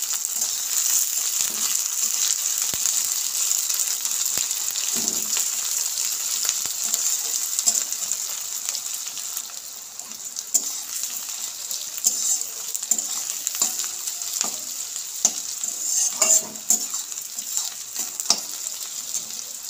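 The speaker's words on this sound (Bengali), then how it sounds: "পেঁয়াজটা আমি ভালো করে ভেজে নেব।" Onions frying in oil with two split green chillies for a Bengali chicken dish, a loud continuous hiss with scattered crackles and spatula scrapes while being stirred, no voices.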